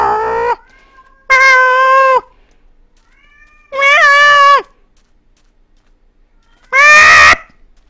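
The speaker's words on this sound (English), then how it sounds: "The cat is meowing like a crazy cat." A cat meows loudly four times, long drawn-out wailing calls spaced a second or more apart with silence between them, close and clear with no talking.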